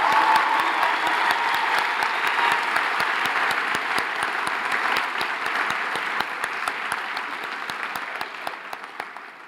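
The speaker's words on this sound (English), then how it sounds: "Let's give them all a huge round of applause again." An audience claps for prize winners at a university health sciences prize-giving and oath-taking ceremony, sustained dense applause with distinct individual claps standing out, gradually thinning toward the end.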